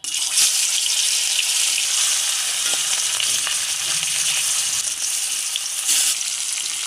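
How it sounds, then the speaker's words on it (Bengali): Fish hisses and sizzles in hot oil in a kadai wok. The frying is a continuous bright crackle with a few sharper spits, and no voices are heard. "তেল গরম হয়ে গেছে, মাছটা দিয়ে দিচ্ছি।"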